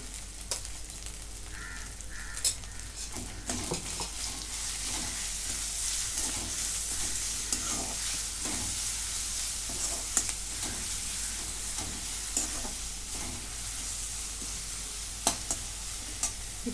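Ground chili sautéing in a pan for potato bhaji, a steady close sizzle with intermittent scraping and stirring strokes throughout, and a crow cawing faintly in the background.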